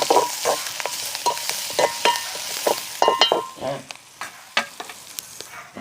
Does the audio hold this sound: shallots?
yes